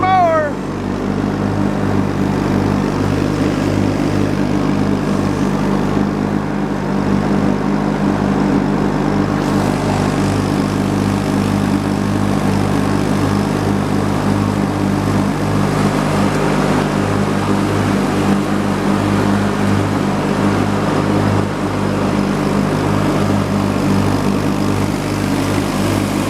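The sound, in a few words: lawn mower running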